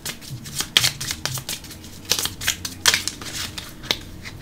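Petit Lenormand cards are shuffled and drawn, giving a run of crisp riffling flicks and sharp snaps at irregular intervals, close and alone.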